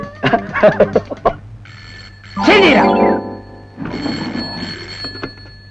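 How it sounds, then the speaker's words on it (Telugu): A telephone rings in a comedy film scene, with two loud bursts of ringing following a man's brief speech and a pause, set against a low steady hum. "లాయర్ కొండలరావుకి ఇవ్వండి ఫోన్."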